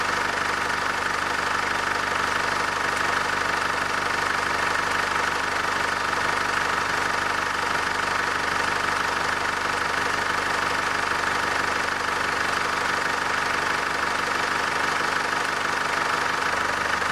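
Chevrolet Trailblazer LTZ with a 2.8-litre diesel engine and an engine-bay sound damper, idling steadily up close, a continuous clattering diesel knock and hum throughout, with no speech.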